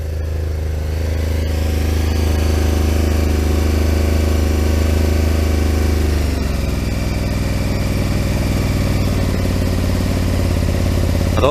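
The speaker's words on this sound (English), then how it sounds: "I don't like running bikes on choke that long." A sport motorcycle engine idles on choke, loud and close, with a steady, slightly uneven throb and mechanical clatter that continues without a break and shifts a little in tone partway through.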